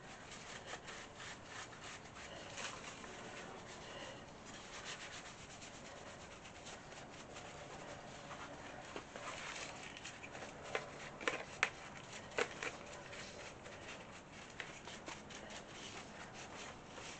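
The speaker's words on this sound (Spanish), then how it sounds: "nos queda la lijadora preparada para el siguiente uso" Quiet, steady rasping of an orbital sander's sandpaper rubbing against a surface, continuous with faint scratchy clicks and no voices.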